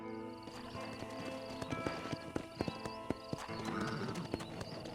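Horse hooves clip-clop in Red Dead Redemption, a close, distinct rhythmic run of hoofbeats with a whinny, over quiet background tones.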